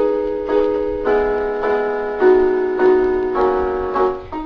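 Piano chords from a song with the left hand added, six or so sustained chords struck in a steady rhythm, each ringing and fading before the next, clear and close with no talking.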